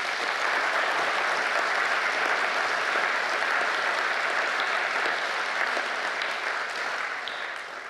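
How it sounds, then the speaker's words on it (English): A gala audience gathered for rhino conservation gives a sustained round of applause for rangers, a steady wash of many hands clapping at even loudness that tapers slightly in the final second. "they deserve a big round of applause"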